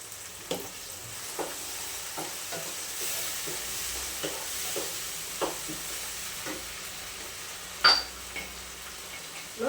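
Grated tomato pulp is stirred into an Andhra-style crab curry frying in a pan, with a steady soft sizzle, repeated spoon scrapes against the pot, and one sharp clink of metal near the end.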